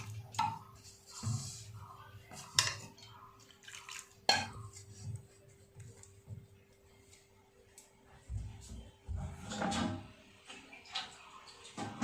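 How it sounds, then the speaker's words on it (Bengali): Water dripping and trickling from tied chhana cheese curds in soft, irregular drops and small splashes, quiet and close, with occasional light knocks and a faint steady hum behind. "এবার এইভাবে বেঁধে কিছুক্ষণের জন্য জলটা ঝরাতে দেব"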